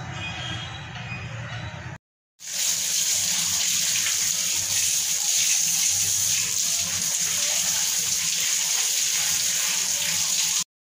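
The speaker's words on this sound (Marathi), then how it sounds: "आता याला आपण नळाखाली वॉश करूयात" A tap runs steadily while a stained item is rinsed clean underneath it. The water makes a continuous close rushing hiss, briefly cut off near the start before pouring on again.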